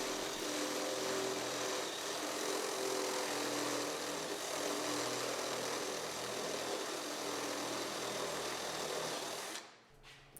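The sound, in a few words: step drill bit drilling holes in engine cover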